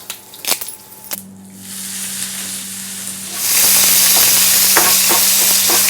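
Curry leaves dropped into hot coconut oil with shallots in a pan burst into a loud, steady sizzle that builds and holds after a few soft clatters, close and continuous.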